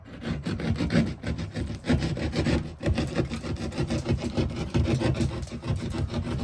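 A ceiling opening for an LED spotlight has its edges trimmed by hand, giving repeated rasping, scraping strokes in an uneven rhythm, close and fairly quiet, with no talking.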